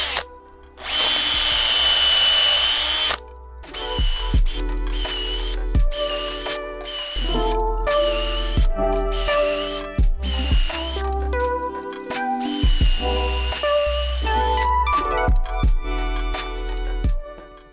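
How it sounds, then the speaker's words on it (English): Power drill boring holes into a log for mushroom spawn, one long whining burst followed by many short, loud drill bursts with brief pauses between them. "once you've drilled the entire circumference of your log, now you're ready to start inoculating that log with mushroom spawn"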